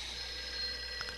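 A telephone rings in a film, a steady electronic ring heard clearly at moderate level against a quiet background, with a slight break near the end.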